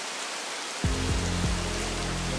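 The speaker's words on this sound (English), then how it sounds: "Now it is pouring." Heavy rain pours steadily at Sodwana Bay, KwaZulu-Natal, a dense, even roar that stays constant throughout, joined partway through by a low droning hum.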